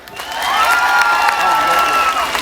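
A crowd at a Turkish folk music concert in Maltepe applauds and cheers loudly, the clapping swelling quickly and holding strong, with shouting voices mixed in.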